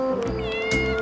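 A cat meows once, a clear drawn-out cry close by, with no talking.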